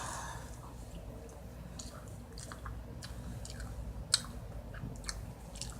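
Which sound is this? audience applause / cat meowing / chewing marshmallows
chewing marshmallows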